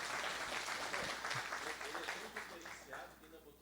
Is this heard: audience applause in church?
yes